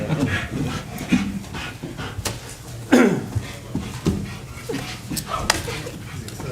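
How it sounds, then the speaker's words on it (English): A working dog pants and whimpers in a council meeting room, its quick breathy panting running throughout with occasional thin whines, close by amid room noise and faint voices. "There's another dog over"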